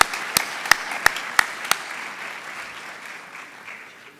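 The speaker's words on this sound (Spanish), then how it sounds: "Lo recibimos con un fuerte aplauso." An audience at a theological colloquium applauds in welcome of a priest: a few sharp, distinct claps up front, then the clapping thins into a softer, fading patter, moderately faint overall.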